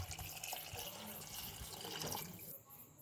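Water poured into a cooker holding vegetables, a few tomato pieces and washed daliya (broken wheat), a steady close splashing and trickling stream running for about two and a half seconds before easing off.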